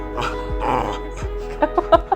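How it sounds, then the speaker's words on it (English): A dog in the background whines and makes soft yips and grunts while getting her rear scratched, several short squeaky vocal bursts close by with a rustling between them. "that was my dog in the background getting her butt scratched"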